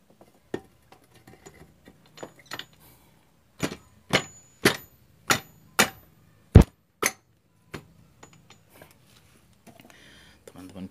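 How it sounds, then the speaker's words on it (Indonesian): Sharp hammer taps on parts being fitted into the crankcase of a Suzuki Satria two-stroke engine: about ten distinct, close metallic knocks in an uneven rhythm, some louder than others, with a quiet workshop background. "Teman-teman bisa ketok pakai palu."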